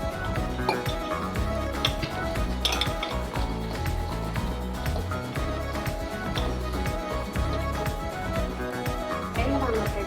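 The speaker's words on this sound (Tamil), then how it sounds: "இப்போ பஜ்ஜி மாவை நம்ம இதில் மிக்ஸ் பண்ணிக்கலாம்." Bread bajji batter is stirred in a bowl, producing a continuous busy clatter of a utensil knocking and scraping against the bowl, close and steady throughout.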